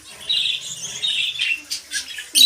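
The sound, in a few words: pet lovebirds chirping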